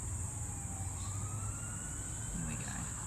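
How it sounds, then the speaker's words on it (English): Emergency sirens from a busy main road near a Queensland driveway, a faint wailing tone rising and falling in the distance under a steady high insect buzz. "You may hear the sirens."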